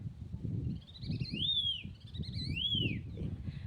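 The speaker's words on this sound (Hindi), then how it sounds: "अपनी भाषा में कितनी प्यारी आवाज़ है। चिड़ियों का चहचहाना सुबह सुबह।" Small birds calling on tree branches on a cold morning in a Himalayan village, with a few clear rising-and-falling whistled chirps over a low background rumble and no talking.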